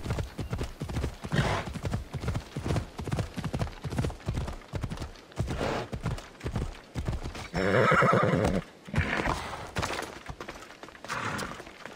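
A horse in the video game Assassin's Creed Odyssey gallops with rapid, rhythmic hoof clip-clops and lets out a loud neigh partway through, with someone speaking now and then over the action.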